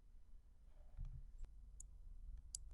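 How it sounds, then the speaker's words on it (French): A few faint, sparse mouse clicks on a wrench icon in ProRealTime trading software, light ticks spread over low background rumble. "Il suffit de cliquer sur la clé à molette ici et de sélectionner Modifier."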